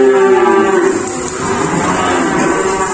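A Javanese PO cow lets out a loud, close moo that falls away after about a second, followed by low farmyard background noise at a cattle trading yard.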